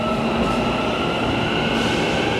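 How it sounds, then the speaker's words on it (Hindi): An Almaty metro train pulls out of Almaly station, a steady loud rumble and rolling roar of the underground cars with faint wheel clatter, filling the platform continuously with no voices. "हमारी मेट्रो जा रही है"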